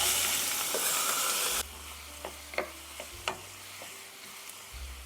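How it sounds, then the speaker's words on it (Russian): Loud hissing sizzle of onions frying in vegetable oil in a hot pan, cutting off abruptly and giving way to a quieter crackle with a few sharp utensil clicks. "наливаю растительное масло и отправляю обжариваться лук до легкого золотистого цвета."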